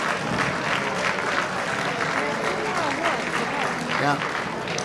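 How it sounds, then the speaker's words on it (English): A parade crowd claps and cheers for the Grand Marshals and parade committee, a dense, steady wash of applause with voices calling out through it. "Round of applause for our Grand Marshals and the Parade Committee."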